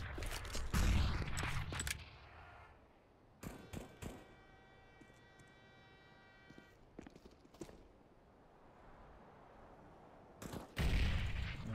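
Pistol gunfire in a CS:GO match, Desert Eagles and other sidearms, comes as sharp broadband cracks in clusters near the start, midway and at the end, with quieter ambient game sound between the shots.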